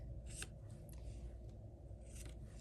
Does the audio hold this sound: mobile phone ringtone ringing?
no